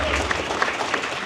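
Audience applause at a film screening Q&A for The Texas Chain Saw Massacre, a full, continuous wash of clapping from a crowd with occasional louder individual claps, steady throughout.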